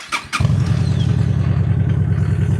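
A Honda Shadow 750 Spirit cruiser engine cranks briefly, catches and settles into a loud, steady, throbbing idle close to the microphone.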